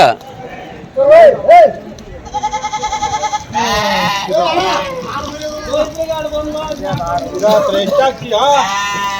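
Goats and sheep on a farm bleat repeatedly and loudly close by, several overlapping wavering cries in quick succession, with a person talking amid the animals.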